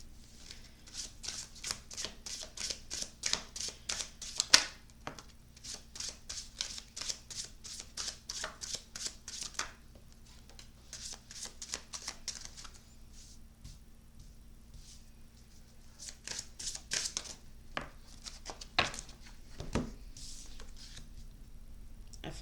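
Tarot cards are shuffled in repeated bursts of quick papery riffling, close and fairly quiet, with pauses between rounds and a few sharper taps.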